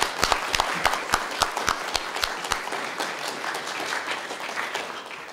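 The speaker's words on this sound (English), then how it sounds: "Please join me in giving a big round of applause" A crowd applauds, with a burst of sharp, distinct claps at first that blends into steady, sustained clapping which gradually thins out.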